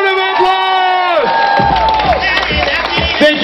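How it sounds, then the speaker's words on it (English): An outdoor crowd at a torch relay event in Winnipeg cheers and whoops loudly, with high voices shouting over a dense wash of clapping and excited noise that holds steady throughout. "Winnipeg, give yourselves a big round of applause!"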